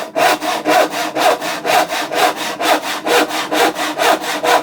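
A hand saw, held at a steep downward angle, cuts through wood in steady rhythmic back-and-forth strokes, each pass a rasping scrape, loud and close with no voices.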